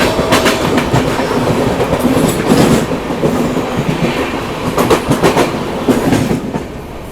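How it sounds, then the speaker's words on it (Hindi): A Mumbai Amritsar Express passes on the adjacent track, its wheels beating out a loud, continuous clickety-clack with rhythmic bursts of rail noise close by, no voices. "बगल से अभी ये क्रॉस हो रही है मुंबई अमृतसर एक्सप्रेस।"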